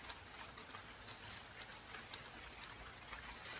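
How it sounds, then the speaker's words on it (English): Rain falls softly and steadily, a faint, even patter with scattered drop ticks and no voices. "Yes, it's raining."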